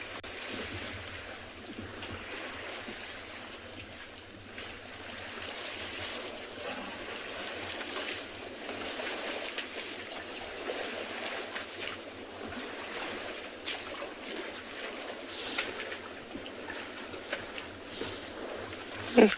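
Elephants drink at a waterhole on an afternoon African safari, giving a steady, soft watery slurping and splashing wash that stays fairly even throughout, with a few slightly louder splashes near the end.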